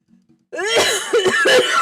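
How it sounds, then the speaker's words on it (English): A harsh coughing fit bursts out after a brief quiet moment, a run of several loud, close, raspy coughs with throat-clearing sounds in quick succession. "Having a coughing fit."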